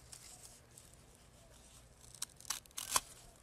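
A brown bromeliad flower head is being cut off with a garden cutting tool, giving a few faint, quiet snips and crisp rustles near the end, close up in a mostly still setting.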